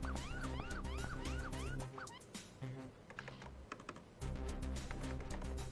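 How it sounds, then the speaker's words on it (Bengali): A police siren wails outside, its rising and falling tone clear for the first two seconds over loud music and keyboard typing indoors, then fading as the room noise drops and returns. "বাইরে পুলিশের সাইরেন বাজছে।"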